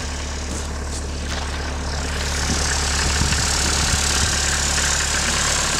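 A car engine idles steadily on a snowy Lapland road while the car sits stuck with one front wheel sunk lower, giving a low, continuous hum that grows slightly louder partway through.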